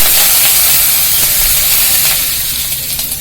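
Asafoetida sizzles in hot oil in a pan for upma, giving a loud, steady hiss and crackle close up that fades slightly toward the end.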